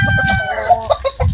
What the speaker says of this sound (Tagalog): Daming inahin.